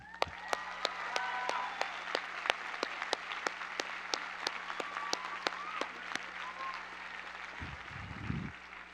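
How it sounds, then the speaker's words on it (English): Graduates at the Reed College 2014 commencement applaud their parents, a steady crowd clapping that fills the clip, with a few louder distinct claps standing out through it and a brief low rumble near the end. "So please join me in giving the clap to your parents."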